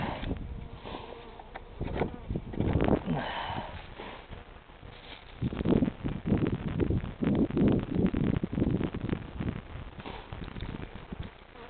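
Buckfast honeybees swarming around an open hive, a dense, continuous buzzing hum that swells and fades, heard close with soft handling noises mixed in.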